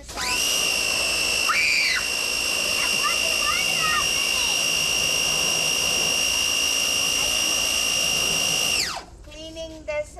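A pressure washer cleaning a house exterior and moldy window runs as a loud, steady high-pitched whine for about nine seconds, with brief voices over it, then cuts off before a short spoken remark.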